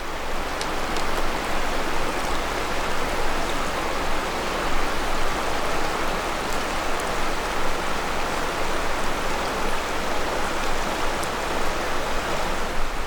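A river rushes past a campsite in a steady, dense wash of flowing water, close and constant with no break for the whole stretch.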